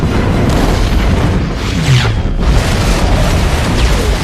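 A massive explosion from an action scene in the movie xXx: a sustained, loud, rumbling boom with crackling debris, dense and close throughout, briefly dipping before roaring on, with no talk.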